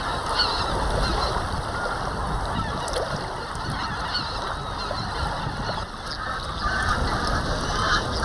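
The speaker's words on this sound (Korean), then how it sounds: "바닷물과 민물이 만나 먹잇감이 풍부한 이곳엔 철새들이 갯벌에 기대어 겨울을 나고 있다." Wintering geese and other migratory waterfowl honk and call in a dense, continuous chorus across a Han River estuary tidal wetland, steady and close-to-mid distance with no pause.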